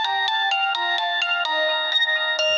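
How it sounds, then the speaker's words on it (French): A phone ringtone plays a repeating melodic electronic pattern, loud and close, with evenly pulsing notes running continuously and no talking. "Excusez-moi. Téléphone."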